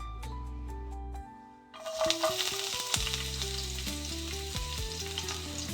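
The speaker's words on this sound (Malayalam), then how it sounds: "നമ്മൾ അരിഞ്ഞ് വെച്ചിരിക്കുന്ന വെളുത്തുള്ളി ഇട്ട് കൊടുക്കുന്നുണ്ട്." Chopped garlic drops into hot oil over low flame and starts frying with chilli flakes for white sauce pasta, a sudden rush of sizzling after a quiet moment, with stirring clinks and steady crackle near at hand.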